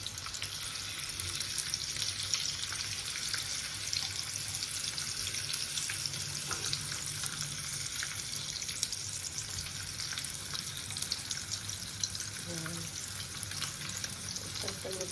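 Sausage omelette sizzling steadily in a frying pan, a constant crackling hiss with faint clinks and stirring, close and moderately loud throughout with no talking.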